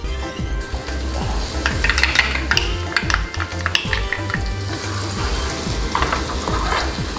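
Garlic sizzles in a little oil in a large wok, bright and close, while a utensil scrapes and taps the metal in repeated strokes, with no speech over it.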